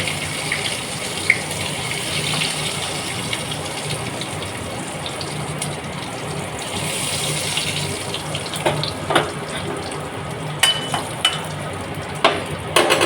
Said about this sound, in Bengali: ফোড়নে দিয়ে দেবো গোটা গরম মশলা আর জিরে